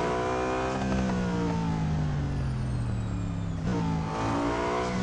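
A Koenigsegg CC850 hypercar with manual gearbox accelerates hard on a circuit, its engine note climbing steadily before a sharp gear change, then pulling again, heard from inside the car.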